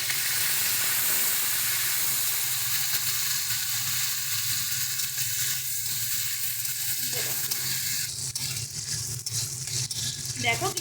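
Drained raisins dropped into hot oil on low heat for fried rice, loud steady sizzling and frying hiss with stirring scrapes throughout, close and dominant, no voices.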